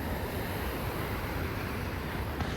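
Sea waves along the shore below Malabar Hill in Mumbai, heard as a dense, continuous wash of surf mixed with wind rumble, loud and steady throughout with no voices.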